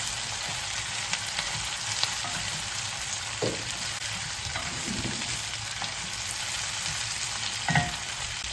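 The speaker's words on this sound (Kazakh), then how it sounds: "Артынан бұрыштарды салып араластырамыз" Steady sizzling of peppers stir-frying in a hot pan for fried noodles, with occasional scraping and clinks as they are stirred; no voices.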